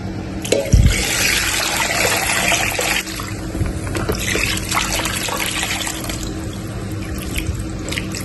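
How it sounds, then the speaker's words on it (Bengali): Water poured from a container into a pot of spiced country chicken for a Chittagong-style chicken dish, a steady close splashing and trickling stream with a brief thump near the start and no talk. "দিয়ে দিচ্ছি পানি।"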